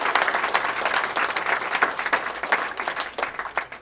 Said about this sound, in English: So let's give them an applause.